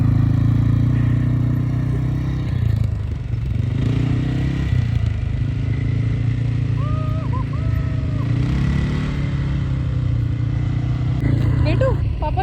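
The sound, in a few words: ATV bike being ridden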